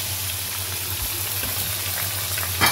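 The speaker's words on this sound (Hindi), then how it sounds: "हमने गोश्त को अच्छी तरीके से भून लिया" Beef pieces and marrow bones browning in a large pot for Karachi-style nalli nihari, a constant dense sizzle with a few soft stirring knocks and a low hum underneath.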